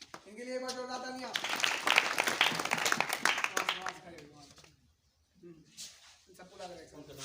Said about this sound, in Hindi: इनके लिए बस जोरदार तालियां।